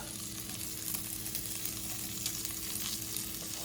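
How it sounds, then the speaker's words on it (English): Continuous sizzling of sausages browning in a skillet, close and even, with small pops and crackles scattered through the hiss. "we're going to go in and brown our sausages, guys. Hear that sizzle?"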